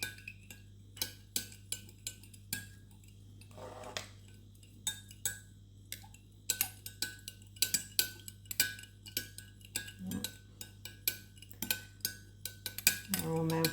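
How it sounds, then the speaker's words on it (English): Spoon clinking against a container while stirring yellow colour into melting wax for wax melt tarts, a steady run of sharp, close taps and scrapes over a low constant hum. "give it a good stir, make sure they melt right in"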